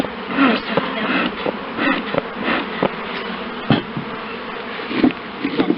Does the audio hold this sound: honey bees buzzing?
yes